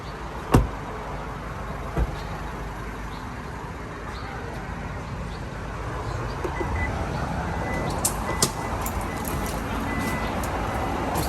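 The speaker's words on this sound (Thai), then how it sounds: "เดี๋ยวผมปิดประตูกันแม่เดี๋ยวปิดประตูแป๊บหนึ่งเลยครับ" Doors of an Isuzu MU-X SUV being shut, one sharp thud early on and another about two seconds later, followed by further softer clicks and knocks inside the cabin over low steady background noise.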